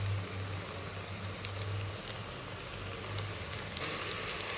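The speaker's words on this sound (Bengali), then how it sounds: "মোটামুটি পেঁয়াজ ভাজা হয়ে গেছে, বেশি লাল করব না।" Onions frying in hot oil with bay leaf, cinnamon and cardamom, a quiet, even hiss and bubbling sizzle under a low background hum, continuous and without voices.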